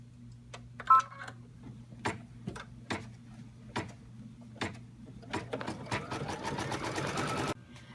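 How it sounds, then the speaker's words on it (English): An embroidery machine stitches an outline around an anchor applique for an in-the-hoop bag, its needle ticking in steady close taps over a constant motor hum that quickens into a dense run of stitches near the end. "It is now going to stitch a stitch all the way around just to help hold everything into place."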